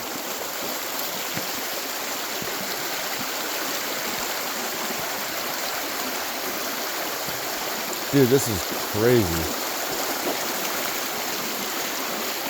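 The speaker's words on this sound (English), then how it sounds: "Why is the sound of the water making me feel wobbly?" A stream flows steadily on a hike, a continuous rushing wash of water heard close up, with a person briefly speaking over it near the end.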